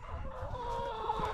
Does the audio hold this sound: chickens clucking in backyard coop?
yes